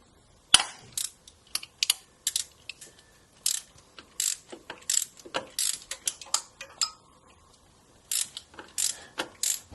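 Ratchet clicking in bursts while 12mm slave cylinder bolts are undone on a Honda Prelude, sharp close ratcheting strokes separated by short pauses, with no talking.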